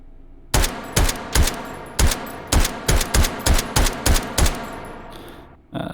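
New gunshot sound effects in the video game ModulMCX2; about a dozen loud, punchy shots fired one by one in an uneven rhythm, each with a short tail, with no talking.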